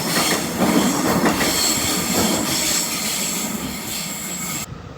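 A train in Melbourne, Australia rumbles by close at hand, with continuous rail noise and wheel squeal that cuts off abruptly at the end.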